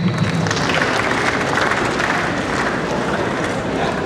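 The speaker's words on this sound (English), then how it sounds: "Come up here, a round of applause for him." A steady wash of audience applause fills a ceremony hall as an architect, an ex officio member, is called up to the stage; dense, even clapping runs throughout without a break.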